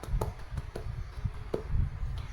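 A class of schoolchildren clapping for classmates: scattered, uneven handclaps in quick irregular succession, fairly close and moderately loud, with no voices over them.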